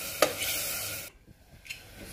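Chole being stirred in a pan over a village cookfire, a close rasping scrape and sizzle that cuts off partway, leaving a quieter stretch with one more faint scrape, no talking.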